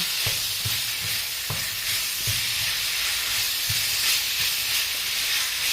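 Beef sizzles and hisses steadily as it sautés in a pan, with several short clanks and scrapes of stirring against the pan breaking through the constant frying noise.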